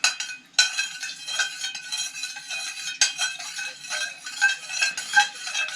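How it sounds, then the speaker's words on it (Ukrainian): A spiced salting marinade for mackerel is stirred briskly to lift its sediment, giving close, rhythmic clinks and swishes of a utensil against the container. Sharper clinks punctuate the stirring. "Піднімаємо осад в маринаді, ну тобто розколочуємо його гарненько"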